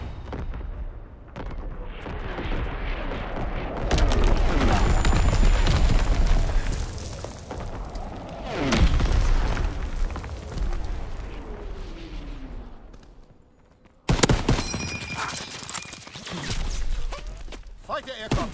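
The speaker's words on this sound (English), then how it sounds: "Incoming enemy artillery" Enemy artillery barrage in the World War II shooter Call of Duty WWII, online Team Deathmatch: rolling booms and blasts swell and fade over sustained rumble, with a sharp loud hit near the end, under in-game talk.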